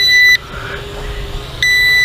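Two electronic beeps from a Drocon DC-08 GPS drone controller, likely a low battery warning, one at the start and one near the end, separated by a quiet pause.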